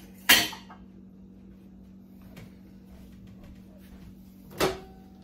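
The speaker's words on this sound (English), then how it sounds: "Now I'm going to stick this in the microwave and melt it." A sharp click and clunk of a microwave door opening, then quiet hum, a faint tap, and another latch-like thud near the end.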